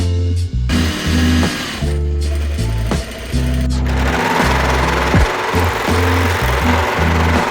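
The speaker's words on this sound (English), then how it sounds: "and then I'm going to sew my cuff, which hopefully is just a cute like oversized cuff here" A sewing machine stitches a cuff in bursts of close, loud whirring, starting and stopping several times with short pauses in between.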